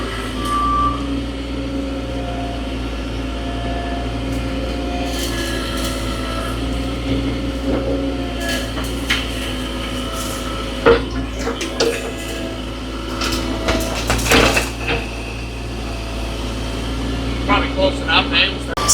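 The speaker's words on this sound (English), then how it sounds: "So now they're putting a chain around those trees and pulling them out." Heavy machinery with a steady low engine rumble drags trees out with a chain outdoors, with periodic clanks and metallic knocks and intermittent reversing beeps, while a person talks over it.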